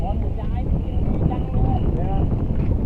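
Strong wind buffets a rented boat while fishing for shrimp at Bang Taen, roaring steadily against the microphone throughout as voices talk over it.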